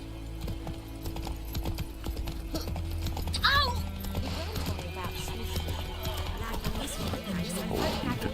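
Horse hooves clip-clopping at a steady walking rhythm in The Witcher video game, close and continuous, with a brief whinny midway and game voices talking over it.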